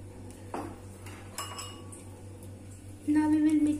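A metal spoon clinks and scrapes against a pan while ingredients for chicken fry with red bell pepper are stirred, giving a few scattered taps and then a louder run of scraping over a low steady hum.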